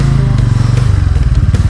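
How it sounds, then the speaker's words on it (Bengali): A Bajaj Pulsar N160 motorcycle on a snowy mountain trail churns as its wheel slips in snow, the engine pulsing with a rough, fast rhythmic throb close to the microphone, with scraping clatter throughout. "বাইকের চাকা স্লিপ হয়ে গেছিল।"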